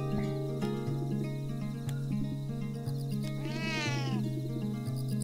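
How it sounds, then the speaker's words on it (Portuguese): A cat meows once in the video game Sumire, a clear rising-falling cry over a looping musical background. "Ah, o gato tá ali, ó."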